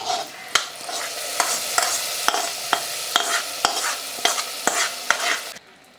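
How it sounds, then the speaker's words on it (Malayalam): Hot tempering poured into drumstick leaf curry, then stirred in with a steady sizzle and repeated sharp ladle knocks against the pot, close and fairly loud, ending in sudden quiet. "അതിലേക്ക് നമ്മുടെ വറവ് ഒഴിച്ചു കൊടുക്കാം"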